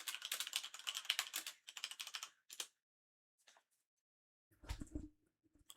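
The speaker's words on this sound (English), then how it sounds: "I'm not sure why my keyboard's getting picked up tonight" Rapid bursts of typing on a computer keyboard, close and fairly quiet, coming in several runs of clicks separated by short pauses, with a low thump near the end.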